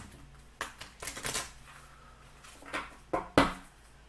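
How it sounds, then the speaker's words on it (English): Tarot cards being shuffled by hand during a supermoon ritual reading: a few quick, faint riffling and slapping bursts with short pauses between, close and quiet, no talk. "One more good shuffle."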